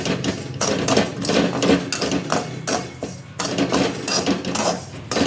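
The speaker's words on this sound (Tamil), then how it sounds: "எண்ணெய் ஊற்றி நல்லா வணக்குங்க. எண்ணெய் ஊற்றி நல்லா வணக்கணும். கைவிடாமல் வணக்குங்க" Vegetable broken-wheat upma stirred in oil in a pan, with continuous loud metallic scraping and clattering of a ladle against the pan in uneven rhythm.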